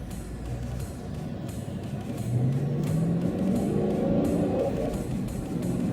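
A car with a Tremec TR-6060 manual transmission drives along, its engine note climbing in pitch under a steady road rumble and then settling after a gear change, moderately loud with no talking.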